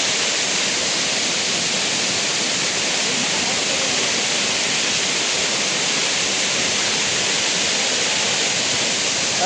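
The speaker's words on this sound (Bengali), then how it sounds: "তাই দেখো ফলসের জল এভাবে পড়ছে" A hillside waterfall near a dam keeps up a continuous, loud rushing roar of falling water, steady and unbroken throughout with no voices.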